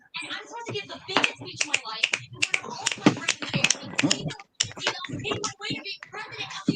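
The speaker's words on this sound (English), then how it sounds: "we don't clap around here, we finger snaps because that's what poets do" Audience members at a poetry night snap their fingers in place of clapping, a flurry of sharp, scattered snaps close by, mixed with people talking throughout.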